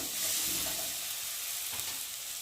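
Fried potatoes are stirred into a sizzling spice masala that has begun releasing oil, in a pot for egg pulao; a steady, close frying hiss runs throughout with soft stirring scrapes and no talk.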